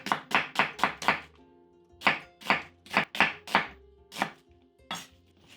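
Onions being chopped with a knife on a cutting board, in two quick bursts of five or six sharp, evenly spaced thuds each, close and crisp with no talking.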